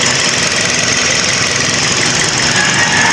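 A Toyota Vios engine runs rough and misfires, a loud steady close-up drone with an uneven, lumpy pulse throughout.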